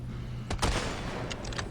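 A few gunshots in the video game Resident Evil 4, two or three quick sharp bangs close together, fairly loud with no talk over them.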